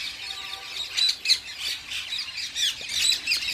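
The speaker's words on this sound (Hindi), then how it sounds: "देखो, हर तरफ तोते ही तोते," Parrots squawk in trees at a park in Jaipur, giving a steady chorus of harsh, overlapping calls at moderate distance with no talking.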